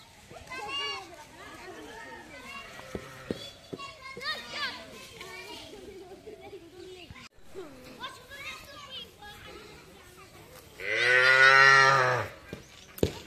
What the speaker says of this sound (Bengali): কার যেন একটা কিউট সাদা বাছুর।